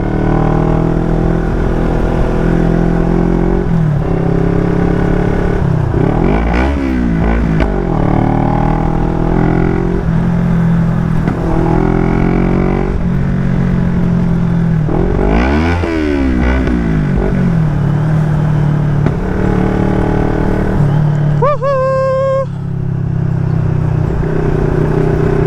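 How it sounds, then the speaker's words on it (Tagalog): Road traffic rolls past a rider on an NK400 motorcycle, with loud engine drone and several heavy vehicles sweeping by in rising and falling passes, plus a horn-like tone near the end. "Daming truck ngayon ah. Katakot sumabay oh."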